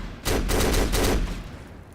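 Burst of G36C rifle fire in a close-quarters shooter game, a rapid cluster of loud shots lasting about a second, then fading into a lingering echo.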